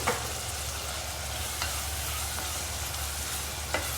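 Green chillies frying with softened onions in a clay pot for spicy Andhra-style chilli chicken, a continuous moderate sizzle with occasional scrape and clink of stirring, no talking.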